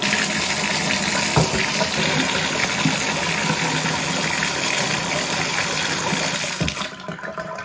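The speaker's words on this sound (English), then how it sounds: "what I'm doing is just running a little hot water down there" Hot water runs steadily down a bathroom sink drain during drain cleaning, a continuous close, loud rushing flow that cuts off near the end.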